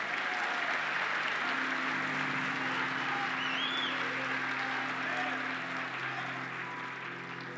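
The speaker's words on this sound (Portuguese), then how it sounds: "Dê uma salva de palmas para Jesus." A church congregation at a men's conference applauds, steady dense clapping that fills the room for several seconds at a moderate distance.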